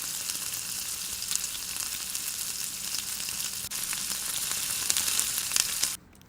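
Spices and Kashmiri red chili powder saute in a pan for besan chilla curry, giving a constant, close, even sizzle that runs for several seconds and then cuts off abruptly.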